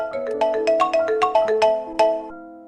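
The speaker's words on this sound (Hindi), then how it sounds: "16 दिसंबर की रात को 9 बजे अचानक माँ का फोन।" A mobile phone ringtone plays a bright, quick melodic pattern of about a dozen notes, loud and close, then fades out.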